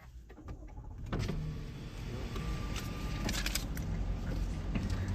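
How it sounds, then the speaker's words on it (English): A car at a gas station while being fuelled, with a whirring electric motor like a power window over a steady mechanical hum and ambient noise, close by and with no talking. "I'm at the gas station trying to get gas"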